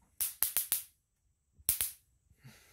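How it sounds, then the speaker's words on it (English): Small fireworks go off nearby as sharp, dry cracks: four quick pops in a row, a pause, then two more, with a faint fizzing afterward. "Fireworks."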